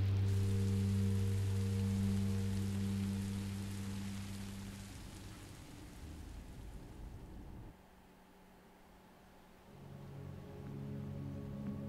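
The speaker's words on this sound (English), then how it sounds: "After a night of rain," Steady rain falls in the video game Minecraft: Story Mode, a continuous hissing wash that fades quieter partway through alongside a low humming tone, with no talk.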